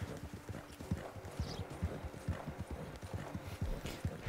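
Horse hooves clip-clopping in the video game Red Dead Online, a steady rhythmic trot of close, crisp hoofbeats on the ground, with a brief whinny-like sound partway through and no talking.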